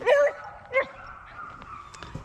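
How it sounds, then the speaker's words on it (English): Neighbor's dogs bark nearby in two short yelping bursts, followed by faint distant barks and yips in the background. "Neighbor's dogs are going nuts."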